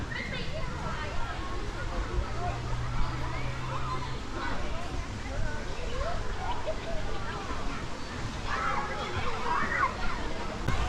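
Steady rushing water from the Chet Sao Noi waterfall in Thailand fills the scene, with people splashing, talking and shouting faintly in the background throughout.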